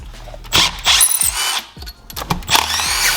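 Removing the cylinder head from a Seadoo 717 engine: loud, close bursts of a power tool whirring in short spurts, separated by brief quieter gaps and light metallic clicks.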